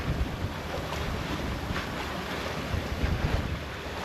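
Steady rushing wind from the southwest buffets the microphone on a sailboat at sea, with a constant broadband roar and faint wave wash beneath, no voices.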